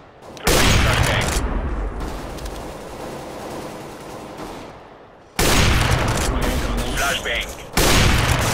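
Flashbang grenades going off in a Counter-Strike match, loud blasts with a sharp onset near the start and more bursts later, each followed by a sustained noisy wash, amid other game sounds.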